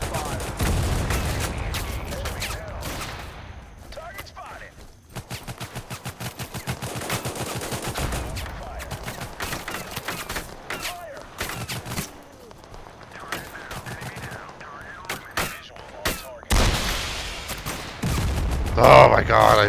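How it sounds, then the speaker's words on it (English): Rapid machine-gun bursts, rattling gunfire and tank shelling in the war strategy game Total Conflict: Resistance, loud and nearly continuous with heavy booms near the end, a voice talking over the battle. "We're getting fucking blown the fuck up by the tank."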